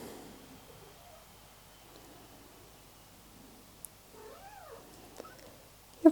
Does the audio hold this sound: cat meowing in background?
yes